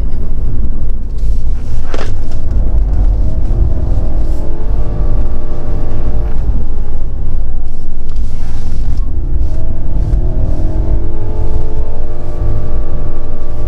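A Nissan Kicks on a full lap around a race track gives a loud, close engine note that rises repeatedly as it accelerates through the gears, over heavy road and wind rumble.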